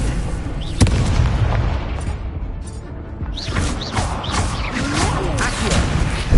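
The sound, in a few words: Incendio fire spell in video game Hogwarts Legacy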